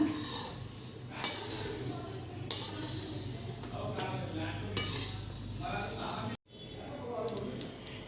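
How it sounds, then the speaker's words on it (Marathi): Coriander seeds and peanuts dry roasting in a pan, with steady stirring scrapes, light sizzling and occasional sharp clinks of a utensil against metal, close by under a speaking voice. "हे धने मी पाच ते दहा मिनटं चांगले भाजून घेतलेत"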